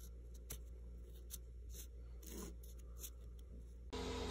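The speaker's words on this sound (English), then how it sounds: "now I'm going to mark what needs to be cut here" A pen or marker scratches out a cut line on a part being trimmed during assembly of an AGD Promag with an anti-siphon dual CO2 tank setup: faint, intermittent scraping strokes over a low hum, ending in a brief louder shift.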